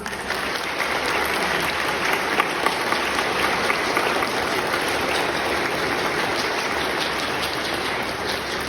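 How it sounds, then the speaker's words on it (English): A large graduation audience applauds at a valedictory speech, dense, steady clapping that fills the hall and holds at a strong level for several seconds. "so let's give them a big round of applause"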